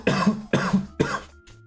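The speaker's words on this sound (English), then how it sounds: "was a weird cough moment." Three harsh coughs in quick succession, close to the microphone, followed by a brief softer throat sound, with no talking.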